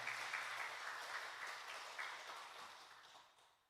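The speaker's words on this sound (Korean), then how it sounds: "우리 큰 박수로 격려해 주시겠습니다" A church congregation applauds in a dense, steady wash of clapping that fades gradually toward the end.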